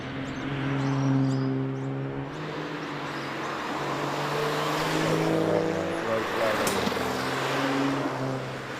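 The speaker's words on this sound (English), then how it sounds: "It is an ex-Cup car that's been converted to a tarmac rally car." A loud engine of an ex-Cup car converted to a tarmac rally car roars past on a rally stage, its pitch rising then falling, with a throaty rumble that lingers as it moves away.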